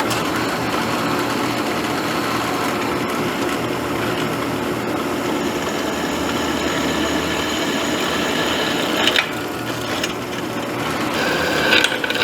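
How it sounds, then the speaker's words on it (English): A drill bores holes into a car's metal near a bend to prepare for plug welding, a steady loud whirring grind that runs continuously with slight surges near the end. "I'm gonna drill some holes down here close to the bend so we can plug weld it."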